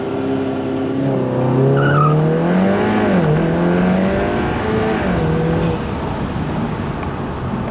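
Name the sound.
Audi TT MK3 launch accelerating 0 to 60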